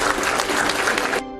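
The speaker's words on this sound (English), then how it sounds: "Give yourselves a round of applause." Loud, dense applause from a seminar audience at a management and sales talk, a short burst of many hands that cuts off abruptly near the end.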